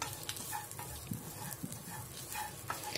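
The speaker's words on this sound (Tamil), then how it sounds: "காஞ்ச மிளகாய் சேர்த்து நல்லா வதக்கிக்கோங்க." Grated coconut and dried red chillies sauté in a pan with a soft, steady sizzle and occasional stirring taps, fairly quiet and close.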